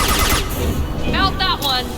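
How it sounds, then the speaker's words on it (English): Impact shot gunfire in Mass Effect 2, a loud burst of rapid shots up close followed by a voice talking over the tail of the firing. "Firing an impact shot."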